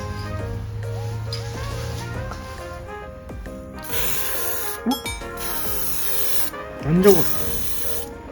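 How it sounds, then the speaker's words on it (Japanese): Yellow spray paint hisses from an aerosol can over primer on wood paneling in a DIY camper van build, arriving in several loud bursts after a stretch of music and a brief spoken remark. "プライマー塗り終わったんで黄色スプレー塗っていきます。"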